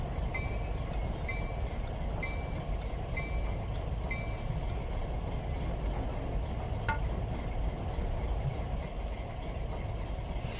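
An NH Alco RS3 diesel locomotive in Train Simulator 2022 rumbles and idles steadily with a dense, continuous engine drone, with a few faint repeated beeping tones and occasional clanks, no talking.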